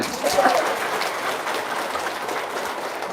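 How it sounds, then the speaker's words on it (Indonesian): A crowd at a motivational success-story seminar applauds, a continuous wash of clapping at steady volume through the whole stretch. "Sekali lagi yang semangat, tepuk tangan."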